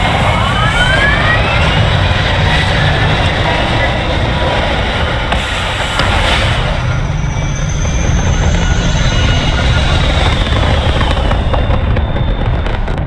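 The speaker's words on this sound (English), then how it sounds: "All thrusters firing." Spaceship thrusters firing in the space game Starfield, a loud, continuous broadband roar with a whooshing, jet-like rush that holds steady throughout, a faint rising whine sweeping in the middle.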